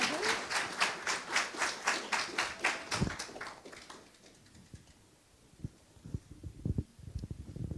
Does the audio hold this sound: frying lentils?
no